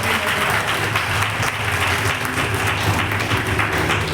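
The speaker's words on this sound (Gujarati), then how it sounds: "તાળીઓથી અભિવાદન" Sustained applause from an audience honouring a new PhD recipient, broad and continuous clapping at moderate level with faint murmuring underneath.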